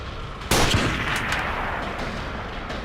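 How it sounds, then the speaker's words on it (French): One loud, close gunshot cracks out at a winter campsite and leaves a long, rumbling echo that fades slowly under steady background noise. "Le premier coup de feu fut le bruit le plus fort que j'ai jamais entendu."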